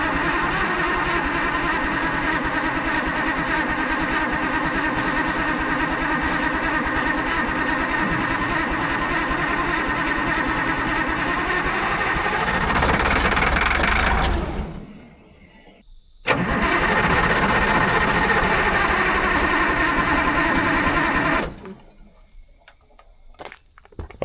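An old Allis Chalmers 645B loader's diesel engine cranks and fires, running loud and steady for a long stretch, cutting out briefly, then roaring again before shutting off.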